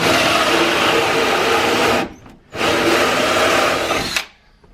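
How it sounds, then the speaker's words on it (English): A power drill with a hole saw runs loud and steady through an interior door for a handle hole, stops for a brief pause, then starts again, grinding for about two seconds before cutting off. "I'm going to drill through until just the bit comes out"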